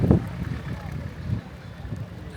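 Low, rumbling wind buffets the microphone steadily at an entrance to the souk in Agadir, Morocco, with gusty swells and a muffled roar throughout, no clear voices on top.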